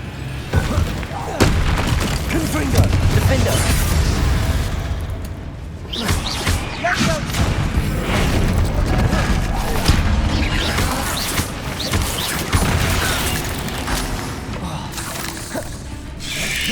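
Confringo spell blasts thunder through a busy Hogwarts Legacy combat sequence, with dense, continuous booms, crashes and clattering effects layered over each other, a brief lull midway, then more heavy impacts.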